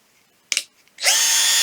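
Powerplus POWDP1511 20V cordless drill driver unscrewing, with a couple of brief clicks and rattles before the motor spins up into a loud, steady, high whine that continues to the end.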